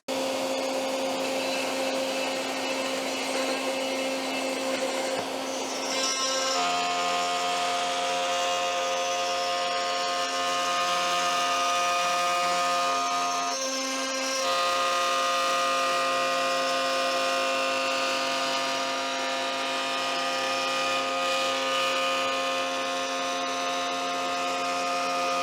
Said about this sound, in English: let's go pull a slot in this on the router table.